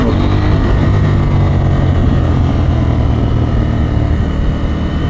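A KTM 890 SMT motorcycle accelerating hard: a loud, steady engine roar with a deep low rumble runs without a break through the whole stretch, with no talking.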